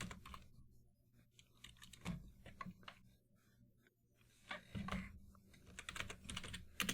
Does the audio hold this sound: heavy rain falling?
no